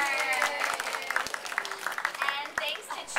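A short burst of clapping and cheering from a small audience that includes children, with voices mixed through the applause.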